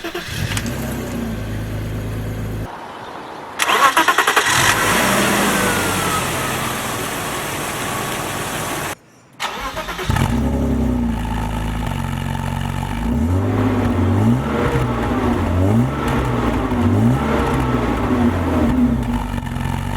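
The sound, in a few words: car engine starting and revving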